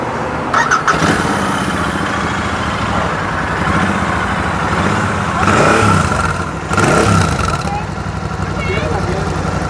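Royal Enfield Super Meteor 650 motorcycle engine starting, then idling loudly and steadily close by, with brief revs partway through, while people talk over it.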